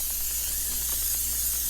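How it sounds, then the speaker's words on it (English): Vegetable oil cooking spray hisses steadily from an aerosol can onto a cast iron pan for pizza, a continuous close airy spray lasting under two seconds with no talking. "So I'm going to do a vegetable spray"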